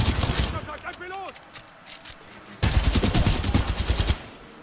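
Rapid gunfire in the video game Titanfall 2 rattles in loud bursts, with a brief lull, and a voice is heard speaking between the volleys.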